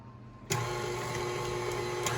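A stand mixer starts up abruptly and runs at a steady electric whir while mixing cloud bread ingredients, close and continuous, with no talk.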